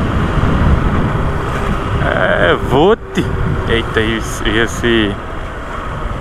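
Motorcycle riding along a street in Brazil, a steady broadband engine and wind rumble running throughout, with someone talking over it and a brief dropout near the middle.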